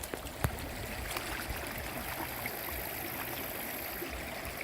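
A forest creek flows steadily with broadband rushing and trickling water, continuous and fairly close, with a faint click or splash early on and no clear talk.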